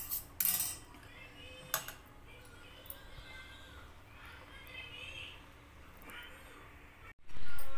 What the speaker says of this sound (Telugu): ఆయిల్ తీసుకున్నాను, పెనం పెట్టేశాను.